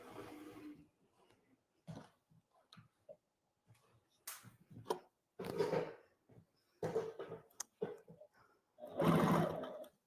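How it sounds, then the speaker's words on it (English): An HD9 sewing machine runs a 3/8 inch seam along leather in short, uneven bursts of close mechanical whirring separated by silent gaps, ending with a longer louder run. "I'm going to sew probably a 3/8 inch seam allowance right up the side here."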